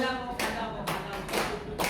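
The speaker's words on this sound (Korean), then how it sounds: "박수." Audience members clap in a few sharp, spaced bursts along to a Korean folk song at a live Chuseok-season performance, with a voice faintly present between the claps.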